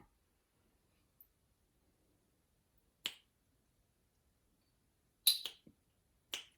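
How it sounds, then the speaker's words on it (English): Sharp, dry finger snaps during a children's rhythm lesson, a handful of isolated close clicks spaced irregularly, including a quick cluster of three, against near silence. "can you snap your fingers when you do that?"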